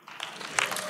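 A church service congregation claps in a short burst of applause, fairly close and lively, with voices mixed in beneath the clapping.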